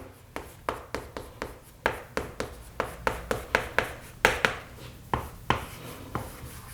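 A pen or marker taps and strokes in quick, rhythmic bursts while writing out the third row of the periodic table, close up and alone, with brief pauses between characters.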